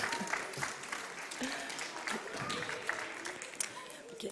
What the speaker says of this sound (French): Je crois qu'on peut l'applaudir et m'applaudir aussi